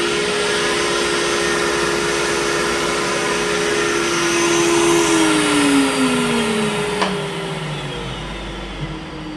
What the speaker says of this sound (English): So whenever I turn the router on, the dust collector goes on.